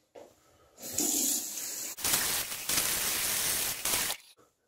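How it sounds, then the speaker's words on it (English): Tap water runs at a sink to rinse off after a close wet shave, a near, loud steady gush broken by short pauses and changes in flow before shutting off. "We rinse everything off."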